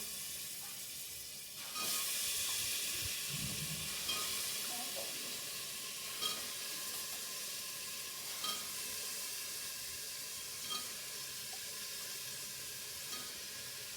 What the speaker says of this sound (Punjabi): ਲੋ ਜੀ ਹੁਣ ਪਾਉਣ ਲੱਗਿਆ ਸਬਜ਼ੀ